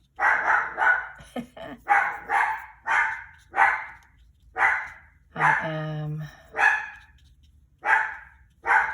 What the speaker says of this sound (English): my dog's out there barking at something out the window